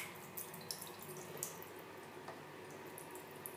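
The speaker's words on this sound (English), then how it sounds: "Pour all of it out, all the water." Water poured out of a container of Orbeez water beads, a faint, soft trickle with small splashes and drips at close range, quiet and steady with no voices.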